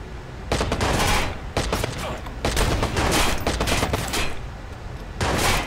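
Dense bursts of rapid automatic gunfire fill a video game firefight, loud and continuous with short breaks between volleys.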